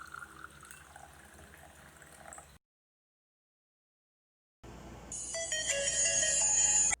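A phone ringtone for an incoming call from a friend, a bright repeating electronic melody that starts after a brief silence and grows louder, following faint running water from a tap.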